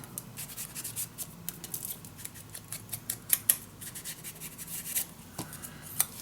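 Scissors snip through scrapbook paper for a Ciao Bella summer mini album, giving soft crisp cuts and rustling at close range, quiet, with a few sharper snips near the end and no talk.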